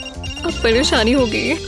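A mobile phone ringtone plays a bright, warbling melodic tune for under two seconds, fairly loud and close, mixed with a voice talking over it.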